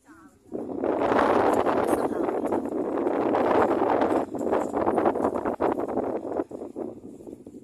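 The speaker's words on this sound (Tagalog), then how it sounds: "Lakas ng hangin." Strong wind gusting across a microphone on the Tseung Kwan O Bridge, a loud, steady rush with buffeting that builds after a quiet start and holds for several seconds.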